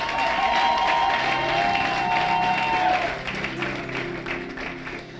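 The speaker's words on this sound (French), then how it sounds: "on acclame le Seigneur" A church congregation applauds and cheers for the Lord, giving loud, dense clapping with crowd voices that holds steady and then eases slightly toward the end.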